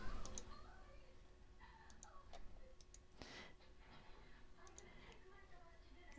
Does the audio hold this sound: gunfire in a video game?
no